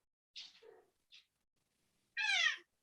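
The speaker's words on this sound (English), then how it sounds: "I have a cat who's decided she wants to contribute to this conversation" Indoor house cat meowing close by: two short soft chirps, a pause, then one longer, louder, drawn-out meow, with no talk.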